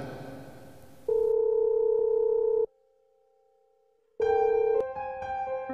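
A phone call tone in the Sakura School Simulator game plays alone, loud and steady: a long electronic beep, a quieter held tone, then a second beep changing pitch, like a ringback before the line connects.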